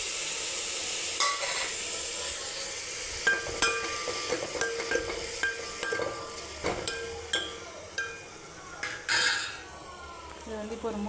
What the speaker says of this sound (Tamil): இப்போ வந்து தக்காளி ஆட் பண்ணிக்கலாம்.